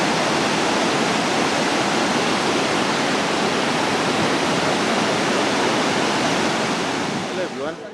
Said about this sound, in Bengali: এখন একটু ঝর্ণার সাউন্ড শুনেন।